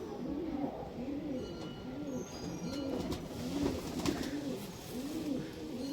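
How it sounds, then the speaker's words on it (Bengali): Domestic pigeons, closed-tail flying and breeding birds kept as a hobby, coo in repeated rolling phrases close by, with faint chirps and light background noise throughout. "আমার পায়রা মোটামুটি সবই বন্ধ লেজের পায়রা আছে"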